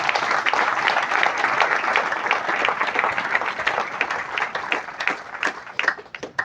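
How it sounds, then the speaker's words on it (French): Audience applause at a golden jubilee ceremony for a religious sister in Ndiongolor, a dense, steady clapping of many hands filling the space and thinning slightly toward the end. "vous méritez nos applaudissements"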